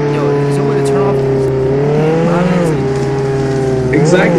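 Car engine in the Roblox Jailbreak video game, a loud steady drone running throughout with rising and falling revs, under people talking.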